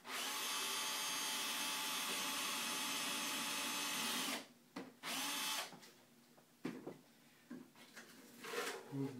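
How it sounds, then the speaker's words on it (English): A power drill bores a screw hole on a building project, a loud continuous whine for about four seconds that cuts off, followed by a few shorter bursts and faint handling sounds. "on the other side, I'll drill the bottom one."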